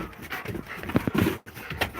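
A huge female dog pants close by in quick, breathy bursts with a few soft whimpery sounds, all within a brief moment.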